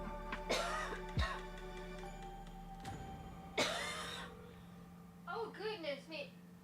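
Several separate coughs come close up over a low steady hum, followed by brief throat sounds and a bit of muffled vocal noise.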